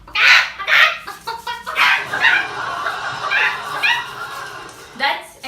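A man imitates an Indian chicken's clucking with his voice, making loud, close, squawky bursts in an uneven run of about eight calls, some drawn out and some clipped.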